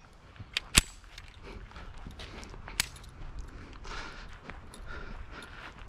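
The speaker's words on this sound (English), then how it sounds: "There were 7 shots there." Seven real gunshots fired at a shooting range: a few sharp cracks stand out, while the rest are softer and spread across several seconds against steady outdoor background noise.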